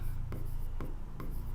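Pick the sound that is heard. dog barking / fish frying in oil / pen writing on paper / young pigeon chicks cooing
pen writing on paper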